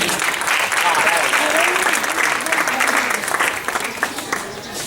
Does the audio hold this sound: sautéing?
no